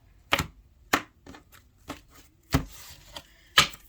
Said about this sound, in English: Couple of more shuffles